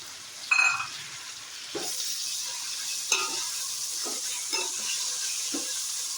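Three medium-sized chopped tomatoes hit a hot pan and keep up a bright, continuous sizzle, with a series of soft scraping strokes from stirring at regular intervals, close and without talk.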